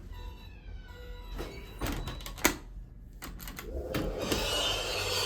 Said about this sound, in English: kind of a loud door